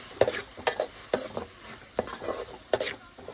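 A ground paste of ginger, garlic and fennel is sautéed in a pan, with a spoon clanking sharply against the metal about every half second over a faint sizzle.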